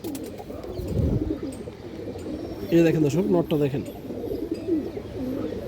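A male Dobas pigeon, a full-bloodline bird with deep jam-coloured feet, coos in a short rolling burst close by, with someone talking over and around the calls.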